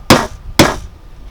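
Two sharp hammer blows striking nails into a wooden table, evenly spaced about half a second apart, loud and close with short ringing decay and no talk.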